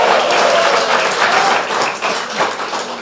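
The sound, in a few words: loud applause with cheering from the congregation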